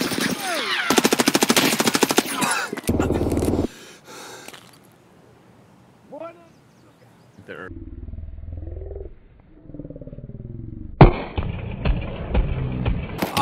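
Rapid machine-gun bursts and single shots ring out in a shooter video game, loud and close at the start, then sparser with creature-like growls and snorts, and a final blast near the end.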